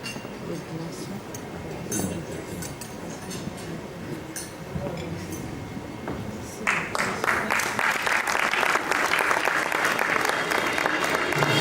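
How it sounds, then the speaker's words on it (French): Audience applause at the closing session of the Africa SME Champions Forum 2025 business conference, with a steady clatter under a voice that swells into louder, denser clapping partway through. "je vais vous demander d'applaudir encore très fort"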